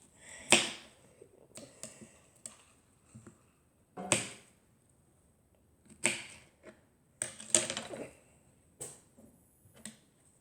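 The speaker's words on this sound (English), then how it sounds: "it's just me cutting up some strawberries" Knife chopping through fresh strawberries on a board, a handful of sharp isolated cuts in an irregular rhythm with short quiet gaps between them, close and clear with no talking.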